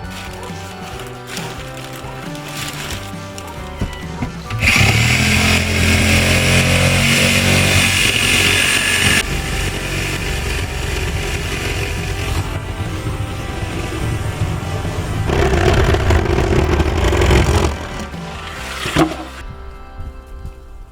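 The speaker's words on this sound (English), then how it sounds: "Sawzall to the rescue" A Sawzall reciprocating saw cuts an opening for a sliding chicken door, giving a loud, harsh, buzzing roar that starts abruptly, runs for over ten seconds with shifting intensity, then stops near the end.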